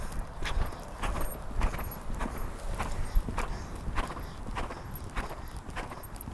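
Mare Diamond canters in a riding lesson, her hoofbeats a steady rolling three-beat rhythm of soft thuds on the arena footing, close and continuous, with faint tack jingles.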